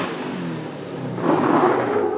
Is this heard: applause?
no